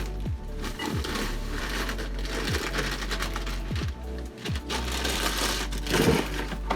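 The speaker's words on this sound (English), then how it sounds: "Mix the first 6 ingredients in the mixer." An electric mixer beats white cake mix batter with a steady whirring motor hum, broken by repeated knocking and clattering against the bowl, close and continuous, with no talking.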